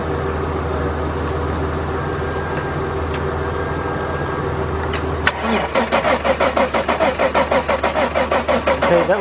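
A 1997 Mercedes-Benz E320 that cranks but will not start: a steady low engine hum gives way around the midpoint to the loud, rhythmic whirring pulses of the starter turning the engine over, continuing to the end without catching.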